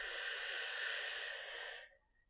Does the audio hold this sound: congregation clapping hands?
no